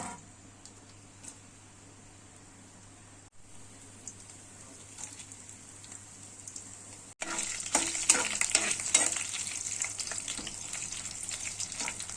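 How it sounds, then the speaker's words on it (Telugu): Tempering spices spattering and sizzling in hot oil, a steady sizzle that swells into loud, dense crackling and popping partway through, with no talking. "తాలింపులు అయితే ఎగిపోయింది కదా"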